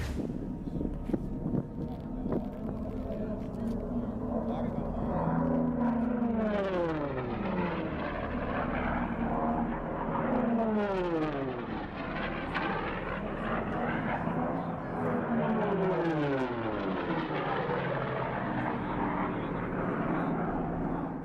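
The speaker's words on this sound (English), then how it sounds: "Vintage World War II planes screaming just feet above the desert floor, cheered on by thousands." Vintage World War II planes flying low at an airshow in the desert, loud engine roars sweeping past one after another with rising and falling pitch, wind buffeting the microphone, no clear talk.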